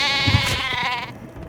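Sheep in the Oblivion video game gives a single loud, close, wavering bleat that lasts about a second and then trails off into quieter background sound.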